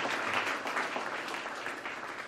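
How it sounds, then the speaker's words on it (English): Applause from a crowd at the 2006 groundbreaking of the Wing Luke Museum, a steady, fairly faint patter of clapping hands that carries on evenly for a couple of seconds. "Let's give another round of applause."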